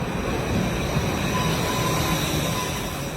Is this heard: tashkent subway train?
yes